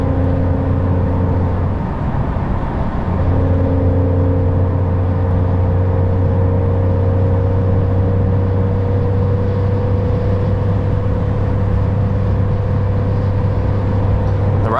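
Steady in-cabin drone of a 2022 Porsche 992 911 Carrera 4 GTS with a manual gearbox while cruising, a low even engine hum with a brief dip around a shift, constant road noise underneath.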